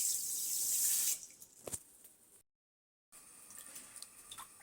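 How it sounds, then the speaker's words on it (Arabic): Water runs from a tap into a pot for a carob drink, a steady close splashing rush for about a second, then fading drips and small knocks before a brief gap. "انا نزلت طبعا كده زي ما انتم شايفين بالميه"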